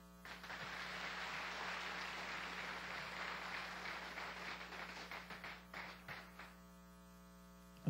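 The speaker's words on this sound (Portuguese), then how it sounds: "Aplauda o Senhor e coloque-se em pé." Congregation in a church applauding together, a sustained wash of many hands clapping that thins into scattered claps near the end, faint and over a steady electrical hum.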